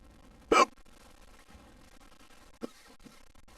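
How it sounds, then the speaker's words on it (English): A man hiccups once sharply and loudly, then a second softer hiccup follows about two seconds later in an otherwise quiet room. "I hiccup."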